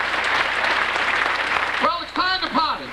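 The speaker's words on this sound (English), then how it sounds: "How about a round of applause, ladies and gentlemen?" Audience clapping at a plaza grand opening, a dense crowd patter that carries on steadily while someone speaks loudly over it through a PA, his voice dominating the last second.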